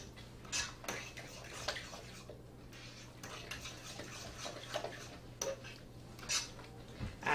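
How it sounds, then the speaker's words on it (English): Cheese and a full jar of Alfredo sauce being stirred together by hand, with steady scraping and clinking of a utensil against a bowl, close and moderately loud, in repeated strokes. "I mix this together very well, and you want to make sure that it's evenly mixed."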